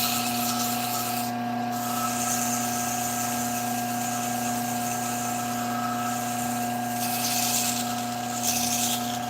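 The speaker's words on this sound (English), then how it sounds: "So I'm going to sand it lightly." Light hand sanding on a wood turning gives a steady, soft rubbing hiss that continues evenly for several seconds, close and moderately quiet, with no talking.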